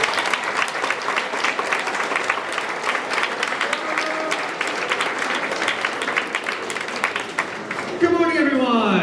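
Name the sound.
audience applause at a school awards ceremony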